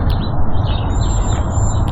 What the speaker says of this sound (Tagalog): Narinig niyo ba yung huni ng ibon?